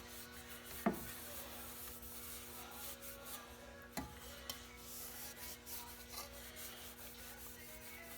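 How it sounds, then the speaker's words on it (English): A red rag rubs and wipes over a dirty oil pan from a 1997 Honda CR-V that has been sprayed with brake parts cleaner, giving faint, scratchy strokes with a couple of sharper knocks. "Wipe it down with this red rag that I got here"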